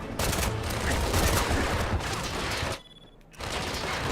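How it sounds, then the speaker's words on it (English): Gunfire in James Bond 007: Blood Stone, a dense, loud, rapid volley of shots that runs steadily, cuts out briefly, then resumes. "Look, I am shooting that guy right in the face"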